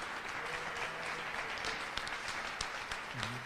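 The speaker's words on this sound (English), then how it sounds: "Let's give the Parade Committee a big round of applause." Applause for a parade committee at a St. Patrick's Day parade news conference, a steady wash of clapping from a small crowd at moderate distance, with faint voices murmuring underneath.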